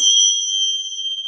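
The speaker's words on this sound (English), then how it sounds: "let's just start with the bell, as I always like to start with the bell" A single small bell struck once, its clear high tone ringing out and slowly fading with a gentle wavering shimmer.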